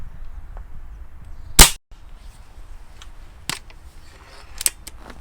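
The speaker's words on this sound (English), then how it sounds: "I'll just fire a couple of shots." An SMK Synergy Supergrade B19-36 break-barrel air rifle fires pellets, with one sharp, loud crack standing out clearly, followed by two or three softer snaps and clicks of the action in a quiet setting.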